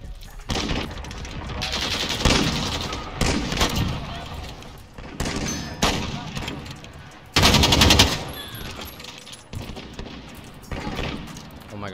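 R700 sniper rifle fire in a PC shooter video game mixed with other players' gunfire, loud repeated bursts of shots and booms across the clip, with a voice talking in between.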